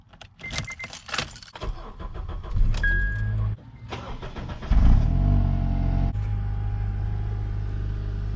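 A 2009 Acura TSX started and driven off, with keys jangling and door handling before the engine fires up and settles into a steady close idle and rumble.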